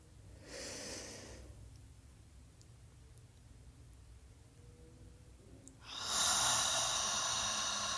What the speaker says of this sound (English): let's go ahead and take one more deep breath